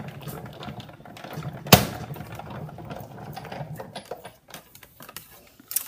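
A manual die-cutting machine cranks paper through with a Quilt Builder Framelits stitching die, giving a steady close ticking and clicking rhythm with one sharp loud clack near the start, heard on its own.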